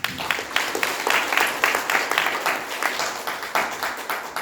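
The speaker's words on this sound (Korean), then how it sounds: "스스로를 자랑스럽게 생각하는 의미에서 박수 한번 하시죠." Audience applause at a Pocheon citizens' unification lecture, a moderately faint patter of clapping hands with slight pulses, continuous for a few seconds.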